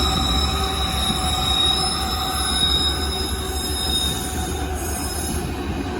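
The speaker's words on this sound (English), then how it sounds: "Here comes another train for Ryan." A train rolls steadily past on the tracks, with a constant low rumble and high metallic wheel squeal ringing throughout.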